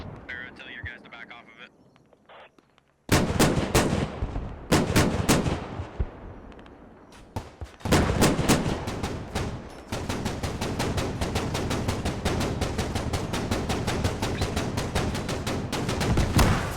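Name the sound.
mortar and gunfire explosions in Squad video game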